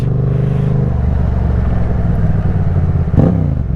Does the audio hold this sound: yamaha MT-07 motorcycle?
yes